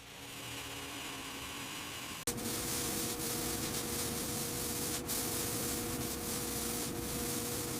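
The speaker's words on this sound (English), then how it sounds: "Keep the grinder steady." Power grinder working on a metal airplane part being converted into a house, a steady harsh grinding hiss that cuts briefly near the start, then runs loud and continuous with slight surges.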